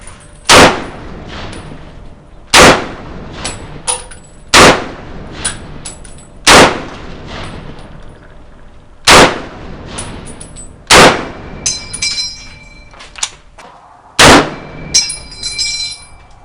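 An M1 Garand rifle fires seven loud, sharp shots at a steady interval of about two seconds, each crack trailing briefly, with a light metallic ring after the later shots.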